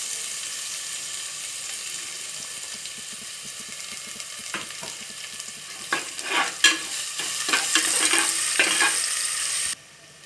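Shallots with crushed garlic and cumin sautéing in a pan for arisi paruppu sadam: a quiet sizzle at first, then louder scraping stirs in a loose run before the sound cuts off abruptly.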